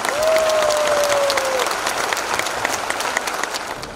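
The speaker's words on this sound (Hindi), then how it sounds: "सबके लिए जबरदस्त ताली" Loud, dense applause from a large audience at a business presentation in Patna, sustained clapping that gradually tapers off, with a brief tonal whistle-like sound near the start.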